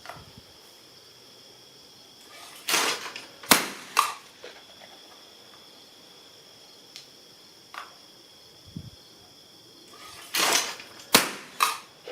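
A Benelli M2 20 gauge shotgun fires several sharp reports in two clusters of about three shots each, separated by a quiet pause with only faint background hiss between them.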